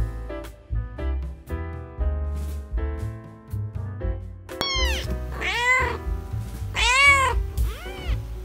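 Several loud cat meows rise and fall in the second half, over a steady background of music-like tones.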